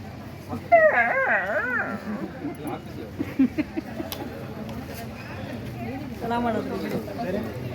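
A performer at a Kannada cultural festival vocally imitates a dog with wavering, whining howls, one near the start and another toward the end, amid background chatter and crowd noise.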